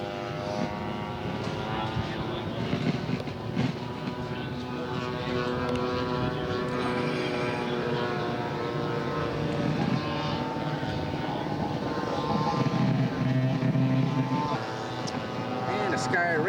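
A red P-38 scale model aircraft flies at a scale aircraft show, its engine drone steady and loud with a buzzing, harmonic whine that swells slightly as it passes, with an outdoor background.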